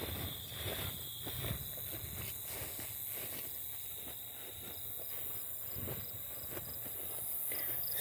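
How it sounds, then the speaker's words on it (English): A constant high-pitched insect drone fills the background, steady and fairly faint, with soft rustling and footsteps underneath. "Stupid cicadas."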